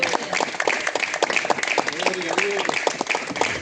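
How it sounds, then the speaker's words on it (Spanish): A church congregation claps during a Spanish-language service with a guest pastor. The applause is a quick, irregular patter that lasts several seconds, mixed with voices and cheering in the room. "denle un aplauso fuerte a aquel que vive en esta tarde"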